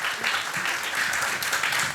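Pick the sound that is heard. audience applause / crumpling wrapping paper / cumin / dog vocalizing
audience applause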